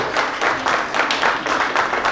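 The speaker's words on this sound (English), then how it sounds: "Give yourselves a round of applause." Children at a cartoon drawing workshop clap for themselves in a short burst of applause, moderately loud and fairly close, with pulses of clapping that swell and ease.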